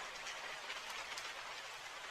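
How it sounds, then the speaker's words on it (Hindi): Heavy rain falls as a steady, faint hissing patter, continuous and even, with no talking. "लेकिन बारिश तो रुकने का नाम ही नहीं ले रही थी"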